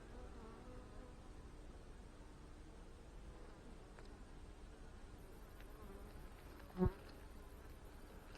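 Honey bees buzz around hive colonies being readied for transport home, a faint, steady hum near the frames, broken by one brief sharp knock partway through, with no one speaking.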